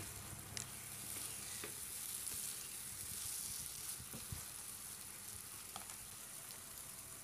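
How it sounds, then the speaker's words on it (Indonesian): Kaffir lime leaves, bay leaves and lemongrass sizzle faintly in a frying pan while being stirred, with a steady frying hiss and a few light scraping clicks, heard quiet and alone. "Kita aduk lagi."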